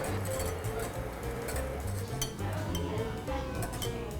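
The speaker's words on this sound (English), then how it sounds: "I have a whisk here, and I'm just going to stir that really gently for about 5 minutes until it starts to thicken" A whisk stirring mango curd gently in a pan gives soft, continuous scraping and light metallic clinks in a steady rhythm, close and quiet.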